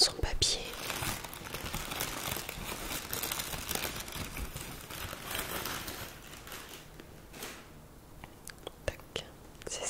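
Christmas ornament, a glass bauble, being unwrapped from its paper, with dense close crinkling and crumpling of paper that runs steadily for about seven seconds before thinning into a few sharp rustles and taps.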